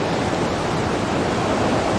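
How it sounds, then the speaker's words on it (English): Big ocean waves breaking along a Hawaiian shore, a steady, loud, broadband roar of surf with no pauses and no voices. "What we're looking at is the big waves breaking."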